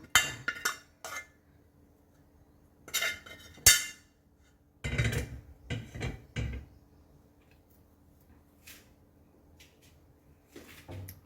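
Shrimp paste chili dip is pounded in a mortar, giving irregular clusters of sharp knocking thuds with quiet pauses between the bursts.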